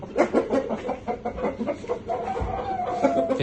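A 4.8 kg fighting rooster clucks and calls in short bursts amid a busy, noisy background at a rooster show, with a brief low thump partway through.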